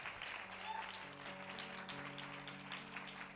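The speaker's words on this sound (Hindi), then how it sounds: "जोर से ताली देंगे परमेश्वर के लिए।" A church congregation applauding together, steady clapping throughout with a faint sustained tone underneath.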